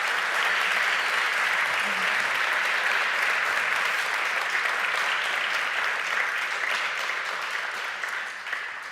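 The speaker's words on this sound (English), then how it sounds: "if we could just give these guys another massive round of applause" A large audience at a startup pitch event in Madrid gives a sustained, dense round of applause, loud and even, close and filling the room, tapering slightly at the very end.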